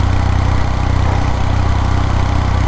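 Kawasaki W800 motorcycle engine running steadily while riding at highway speed, a loud, continuous low throb with even firing pulses and no talk over it.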